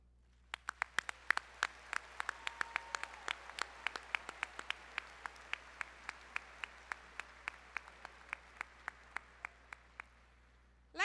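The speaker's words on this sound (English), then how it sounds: "That deserves a huge round of applause." Sparse, distinct claps from an engineering commencement audience, individual hand claps spaced out irregularly over a quiet hall rather than a full ovation, fairly faint and distant.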